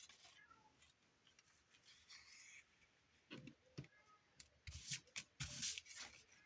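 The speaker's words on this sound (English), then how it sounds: "my cat's talking like a crazy person in there." A cat meows and yowls faintly from another room, a few distant calls, followed by closer rustling and shuffling noises, with no talking.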